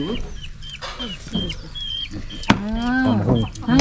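Chickens cluck close by at a rural family home, with short repeated clucks and a few louder drawn-out calls from several birds overlapping.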